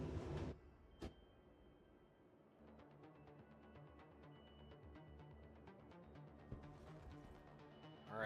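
A sci-fi transit capsule pulling into a station in a video game, a rhythmic train-like clatter of repeated clicks and rolling hum building over several seconds, with a sharp hiss at the end and no talk.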